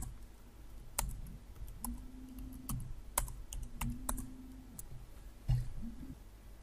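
Numbers being typed on a computer keyboard, a run of scattered sharp key clicks and taps at close range over a low steady hum, with no talking.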